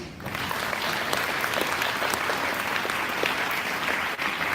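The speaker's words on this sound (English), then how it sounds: "let's give Healthy San Mateo County another round of applause" Audience applause at a bicycle summit awards and closing session, a steady dense wash of clapping that starts almost at once and holds loud and continuous throughout.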